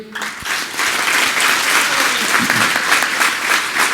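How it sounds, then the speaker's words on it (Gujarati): Audience applause for Karshanbhai at the Santvani Award ceremony at Chitrakutdham, Talgajarda: dense, sustained clapping from a large crowd, steady and loud throughout with no talk over it. "કરશનભાઈ માટે તાળીઓ."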